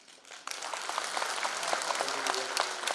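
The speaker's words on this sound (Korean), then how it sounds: "큰 박수를 보내드립니다" A large audience at a district legislator's public report meeting bursts into sustained applause after a brief pause, a dense, steady wash of many hands clapping that holds loud and even to the end.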